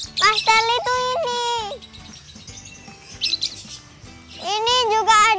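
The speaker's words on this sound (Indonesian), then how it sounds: "Nih, burung lovebird" Lovebirds and other caged birds in a pet shop give loud, bright chirps and warbling calls in bursts, with faint voices and shop noise underneath.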